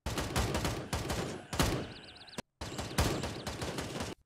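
Rapid bursts of gunfire from the military shooter game Gray Zone Warfare, several loud volleys in quick succession broken by a brief silent gap, with a faint high whine between shots.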